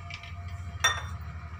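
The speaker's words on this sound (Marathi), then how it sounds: "आणि त्यामध्ये टाकते बर्फाचे तुकडे." Ice cubes drop into cold water in a steel pot while lemonade is being made, giving a single quick clink and splash midway through a quiet kitchen background.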